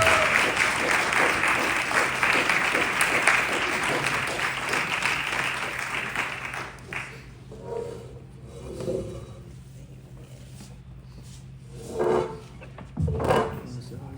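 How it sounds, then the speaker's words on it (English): An audience claps for panelists heading to the table at an event on the rise of the NAACP, loud dense applause for about six seconds that fades into quieter room noise with scattered knocks and shuffles. "please give them a warm applause as they make their way to the table"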